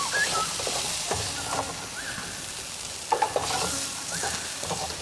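Vegetables are stir-fried in a pan, a steady sizzle layered with scraping stirs and a few sharp knocks of the utensil, close by with no talking.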